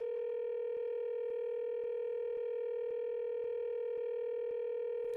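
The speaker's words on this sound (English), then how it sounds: "That's a very continuous ring. Oh, sounds like it's connecting to somewhere." In the Danganronpa 2 video game, a telephone line tone holds steady and continuous after a button press, with faint regular ticks pulsing beneath it and no voices.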